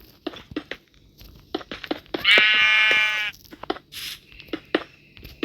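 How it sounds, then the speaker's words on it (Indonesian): A loud, wavering sheep bleat rings out for about a second in Minecraft, amid scattered clicks and tapping from game sounds. "Kok ada suara domba?"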